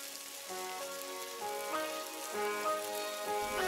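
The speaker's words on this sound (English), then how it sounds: "we're gonna get the bacon sizzling on a nice hot pan" Bacon sizzles in a hot frying pan, a steady crackling hiss that runs the whole time beneath tonal background music, with no talking.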